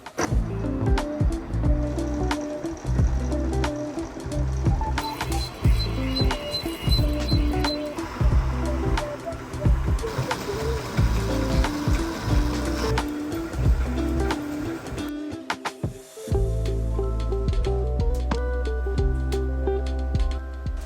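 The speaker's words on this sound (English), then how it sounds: "use this boring bar to recess this hole a little bit lower" A lathe boring bar cuts a recess into a hole in a metal part, giving a steady, loud machining drone with a rhythmic pulsing tone that carries on throughout. It briefly dips near the end, then resumes.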